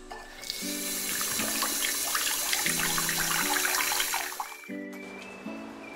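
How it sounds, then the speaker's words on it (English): Warm tap water runs steadily into a sink for hand washing, a close, continuous splashing stream that stops briefly near the end, with a sustained musical tone overlaid. "They said to wash your hands for 20 seconds with warm water"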